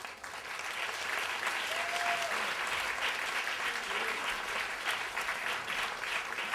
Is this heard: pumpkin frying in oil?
no